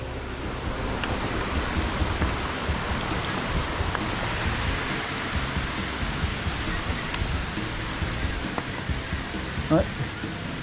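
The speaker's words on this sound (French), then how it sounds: "belle cascade" A waterfall in the Alps near Passy and Magland heard as a steady broad rush of falling water, fairly distant and continuous, with faint clicks on top.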